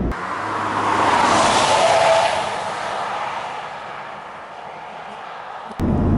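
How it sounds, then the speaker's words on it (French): The 1.6 i-DTEC diesel engine of a Honda CR-V 2WD with a six-speed gearbox drones steadily while driving, joined by road and wind noise. It swells for a moment and then eases back. "c'est un moteur qui accepte de prendre 5000 tours, ça. C'est plutôt pas mal pour un diesel"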